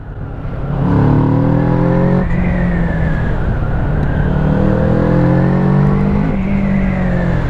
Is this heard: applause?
no